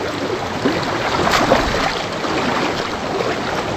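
Forceful, fast-moving waterfall water near Sakleshpura rushing in a thick continuous roar close by, swelling slightly partway through with a brief splashy burst, no talking.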